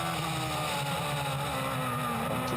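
Onboard engine of a Radical race car lapping Thruxton circuit in the UK Cup, a loud, steady high-pitched drone with sustained revs and a slight pitch shift, close and continuous throughout.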